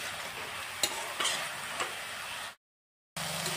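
Soybeans are stirred into spice masala in a hot pan, a soft continuous sizzle with a few scraping knocks of the spoon, briefly cut to silence before the frying resumes.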